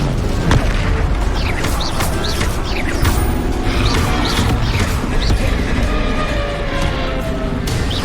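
An Incendio fire spell cast in Hogwarts Legacy sends out dense, loud bursts of roaring flame and crackle, with repeated booming hits and short whooshing sweeps.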